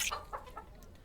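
Clucking from the chickens in the digital version of the board game Castles of Burgundy, heard as a quick run of three or four soft, faint clucks.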